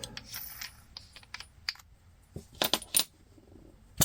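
A coin unscrews the top cap of a Discovery Optics XED 6-36x56 scope turret, making a few sharp metallic clicks and scrapes close up, clustered near the end with faint handling before.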